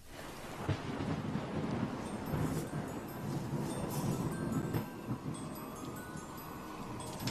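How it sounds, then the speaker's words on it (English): Thunder rumbles continuously, a deep rolling roar that swells and fades over several seconds with rain hiss beneath, loud and close with no voices. "why is it thundering this time of year?"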